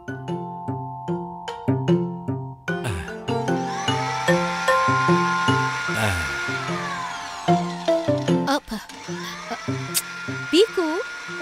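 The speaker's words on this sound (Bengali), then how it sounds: "মিক্সারের আওয়াজ" A cartoon mixer grinder whirs as it blends chutney, a buzzing, drill-like drone running steadily under loud, bouncy music with repeated stepped notes throughout.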